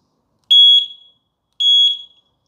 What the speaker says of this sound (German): Denn ich werde jetzt die Klingel betätigen.